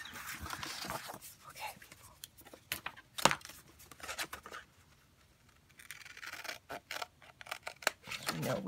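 Scissors handled on a tabletop while crafting an altered book: scattered snips, clicks and rustling scrapes come in irregular bursts with quiet gaps between them.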